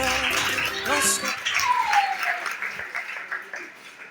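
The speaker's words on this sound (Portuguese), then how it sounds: "Uma salva de palmas enquanto ela está passando." Audience applause at a pastor's birthday celebration in a church, clapping mixed with voices and background chatter, moderately loud and uneven over a few seconds.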